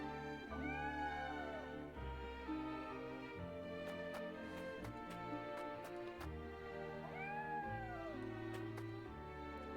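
A cat meows twice in the video game Triangle Strategy, faint rising-falling calls layered over steady game music with chiming notes.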